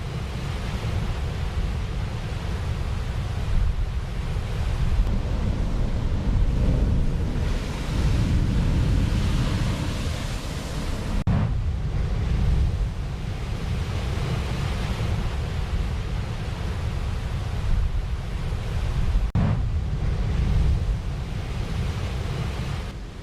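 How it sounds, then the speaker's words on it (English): Cyclone-driven surf pounding the beach at Fins in Quriyat, Muscat, a constant loud roar of breaking waves with heavy wind noise on the microphone, steady throughout with no voices. "Here are the scenes of wave height on the beach of Fins area in the wilaya of Quriyat"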